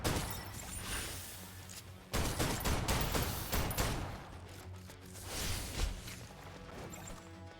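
Gunfire in the video game Snowbreak, bursts of sharp repeated shots mixed with crashing impacts, loud and close, tapering into quieter effects and scattered single cracks.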